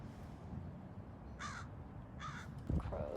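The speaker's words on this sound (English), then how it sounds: "crows, yeah." Crows cawing outdoors, two distinct harsh caws spaced about a second apart followed by a brief third call, fairly faint over a soft background hum.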